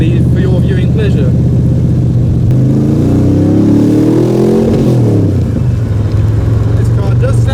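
Cars revving loudly up close as they pull away from a car show, with engine notes rising and falling in sweeping pitch changes over a continuous roar.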